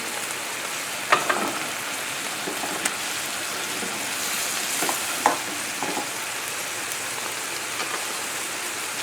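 Trout fillet returned to a hot pan with tarragon sauce crackles in a dense, rain-like sizzle, steady and close, with a few sharper pops and spatters scattered through, no voices.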